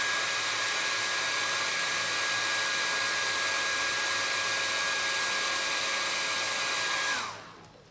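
Hair dryer blowing steadily at close range while drying paint on an MDF piece, a constant loud whir with a whining tone that cuts off abruptly near the end.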